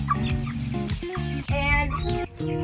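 Meat chickens at feeding time, a close, loud jumble of overlapping clucks and gobbling calls that keeps going with brief dips, no talk over it.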